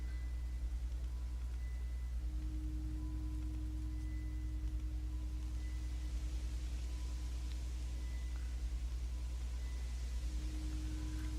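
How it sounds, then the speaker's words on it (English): Steady electronic tones hum from an altar in the video game Tug, sustained drones with a tone shifting around two seconds in, set over a constant low rumble with no talking. "the altar is producing those tones"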